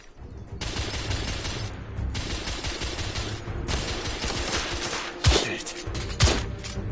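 Gunfire in The Order: 1886, dense rapid machine-gun bursts with brief pauses between them and two heavy booming shots near the end, loud and close.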